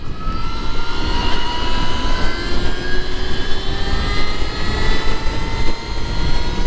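A Stark Varg EX electric supermoto motor whines loudly at speed, thin tonal pitches gliding over a constant roar of wind and road noise.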